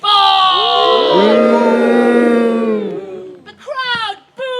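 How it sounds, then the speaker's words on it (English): A festival crowd boos an archer at a Robin Hood event with a long, loud drawn-out chorus of voices, which fades and breaks into shorter hisses and jeers. "The crowd booed and hissed to try and put him off."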